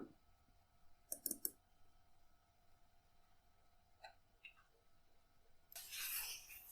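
Mouse clicks on a PowerBook 180 laptop: a quick cluster of three faint, crisp clicks, then a couple of softer ticks in a quiet room.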